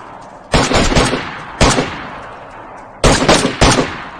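Gunfire in the survival video game DayZ rings out in loud bursts, a rapid volley near the start, a single sharp shot, then two more clustered volleys, with no talk over them.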